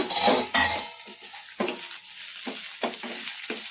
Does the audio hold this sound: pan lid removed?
yes